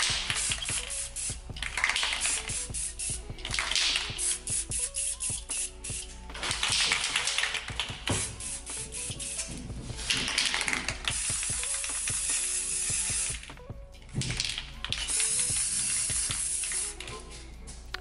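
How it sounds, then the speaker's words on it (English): Close, hissing bursts of an aerosol spray paint can coating a tumbler, with short pauses between sprays and faint clicks of the nozzle. "I'll let you guys hear real time how I spray painted it"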